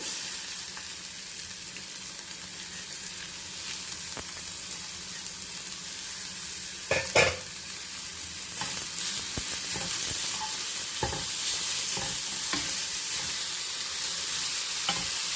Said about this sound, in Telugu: ఈ ఉల్లిపాయలు కొద్దిగా ట్రాన్స్పరెంట్ అయ్యే వరకు కొద్దిగా లైట్ పింక్ కలర్ వచ్చేంత వరకు వీటిని ఫ్రై చేద్దాము